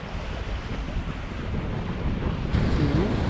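Strong wind buffets the microphone aboard a sailboat at sea in about 15 knots of breeze, a loud continuous rushing roar mixed with the wash of waves, with no talking.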